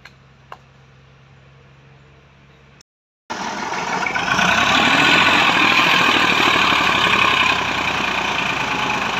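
A Massey Ferguson 240 tractor engine labors steadily under a fully loaded trolley, a loud, continuous diesel drone that starts abruptly after a short gap and holds at full strength.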